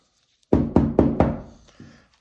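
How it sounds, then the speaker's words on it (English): A brush knocked against the bolt spring of a CP33 .22 LR pistol: four sharp, close knocks in quick succession, then a softer fifth tap after a short pause. "There is some shmoo on this spring that I'll just try and knock out with the brush."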